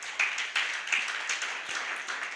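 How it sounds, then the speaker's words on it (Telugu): A church congregation at a Sunday service in Visakhapatnam claps for God, producing a steady, lively patter of many hands with a few louder accents and no talking. "Let's give a big clap on to God."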